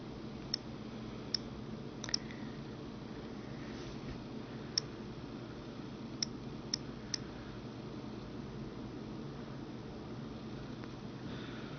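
Light touchscreen taps on an iPod touch as an iTunes password is entered: a sparse series of about eight soft, close clicks spread irregularly over a steady low background hum.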